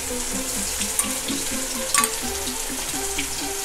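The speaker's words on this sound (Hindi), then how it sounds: "हमने 1 बड़ा चम्मच अदरक, लहसुन, हरी मिर्च और धनिया का पेस्ट बना लिया है। इसको हम तेल में डाल देंगे" Ginger, garlic, green chili and coriander paste frying in hot oil on a medium flame, giving a steady close sizzle with light bubbling and a couple of sharp spits throughout.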